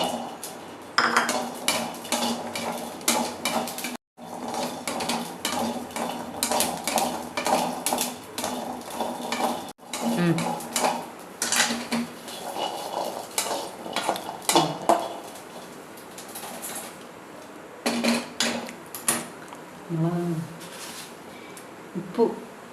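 A spoon stirs and scrapes coriander seeds, garlic and spices roasting in a metal pan, making repeated clinks and gritty rattles with two short pauses, while a voice talks quietly now and then.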